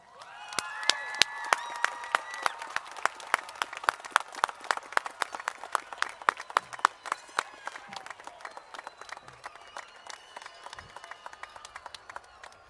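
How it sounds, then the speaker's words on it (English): Applause from a graduation ceremony audience: crisp, scattered hand claps from a moderately sized crowd, fairly distant and steady, gradually thinning toward the end. "Seniors, please give them a round of applause."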